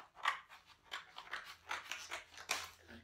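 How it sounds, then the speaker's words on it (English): Quick snipping and crinkling of scissors cutting open the packaging of an iPad case, several close cuts in an uneven rhythm with no talking. "I'm just going to open up this right in front of you. Use my scissors."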